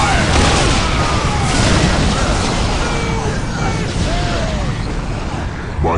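Heavy battlefield fire and explosions in the video game Warhammer 40k: Dawn of War, a loud continuous roar of booms and blasts with a game voice over it.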